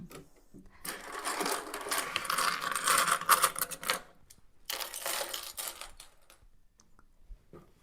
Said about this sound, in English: we just need to top stitch this bit down now